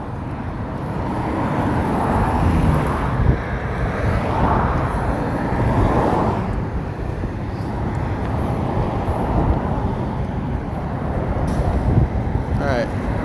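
Wind buffets a microphone in a constant low rumble throughout, with muffled voices faintly underneath.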